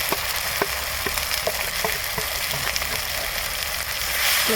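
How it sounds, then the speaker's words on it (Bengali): Ground spices, cumin, garlic, ginger paste, chilli, turmeric and salt, sizzle steadily in hot oil in a pan for fish head curry, with a few stirring clinks and scrapes over a continuous close frying hiss. "সামান্য পরিমাণ ভেজে নেব।"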